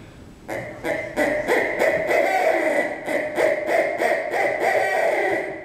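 Rapid hooting from a reed owl call, steady pulsing notes over about five seconds, loud and close, alone.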